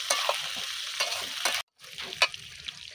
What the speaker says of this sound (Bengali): একটু একটু লাল লাল করে ভেজে নিতে হবে